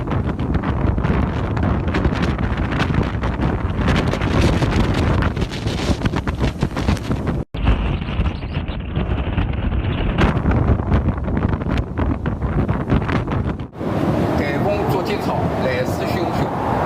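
Typhoon Co-May (竹节草) making landfall in Shanghai, strong wind roaring and buffeting the microphone continuously at high level throughout, with brief cuts between scenes and no speech.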